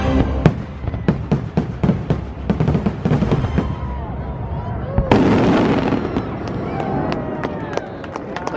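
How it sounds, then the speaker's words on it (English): Hollywood Studios fireworks at Walt Disney World, heard from across the way: a rapid series of sharp bangs and crackles, some loud and close-sounding, followed by a denser crackling burst with crowd murmur underneath. "we have Hollywood Studios fireworks going on over there,"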